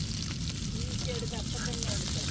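Tilapia fish frying in a pan gives a steady, dense sizzle with faint crackles throughout, moderately quiet.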